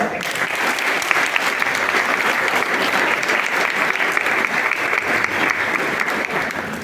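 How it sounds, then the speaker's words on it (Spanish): A church congregation gives strong, steady applause that continues evenly for about seven seconds, a close wash of many hands clapping together with no speech standing out. "un fuerte aplauso"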